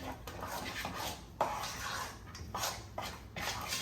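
A spoon works through thick homemade cornbread batter in a bowl, soft wet scraping and thumping strokes repeating at a steady pace, close and fairly quiet with no talk.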